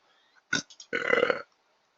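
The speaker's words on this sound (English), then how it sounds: "And belch." A loud, close belch sound effect from the Hatoful Boyfriend visual novel, a short burst followed by a longer drawn-out croaking burp, heard alone.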